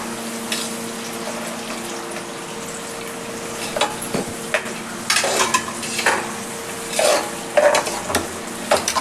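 Onions fry in a pan while a spoon stirs them, a soft steady sizzle under scraping strokes that grow more frequent and louder toward the end, close by with no talking.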